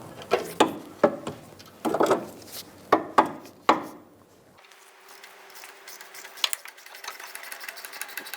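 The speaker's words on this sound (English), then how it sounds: "Using a 15mm socket, remove the nuts going from the exhaust manifold to the flex pipe." A 15mm socket ratchet loosens the nuts joining the exhaust manifold to the flex pipe on a 2000-2007 Ford Focus: a few seconds of sharp, close clicking bursts, then a quieter stretch with faint scattered ticks.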